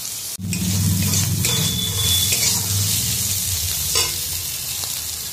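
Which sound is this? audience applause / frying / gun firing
frying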